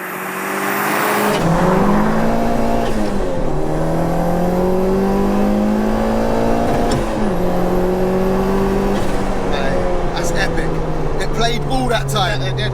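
A Peugeot 205 GTI with a 2.1-litre stroker turbo engine making about 315 bhp pulls hard on boost, revving up through repeated gear changes, loud and close, with tire noise and people talking inside the car.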